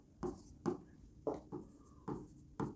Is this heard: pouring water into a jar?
no